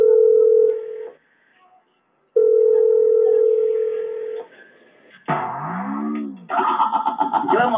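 Landline telephone dial tone hums steadily in two bursts separated by silence, followed by warbling, sweeping electronic tones, all loud and close with no talking.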